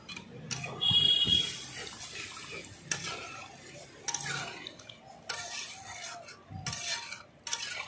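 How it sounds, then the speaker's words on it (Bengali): Water goes into a pan of taro curry with snakehead fish, heard as intermittent splashing bursts, stirring and light utensil clinks at moderate, close range. "আমি দিয়ে দিচ্ছি জল"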